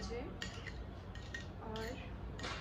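Hair paste is mixed in a bowl, with a utensil clinking and scraping against it in a few sharp, irregular taps over a quiet background.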